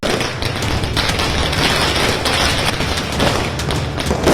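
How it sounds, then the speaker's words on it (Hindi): Firecrackers burst in rapid, irregular volleys, a loud, close crackle of overlapping pops and thuds that continues without pause. "नेता चुनाव जीतते हैं तो पटाखे फूटते हैं।"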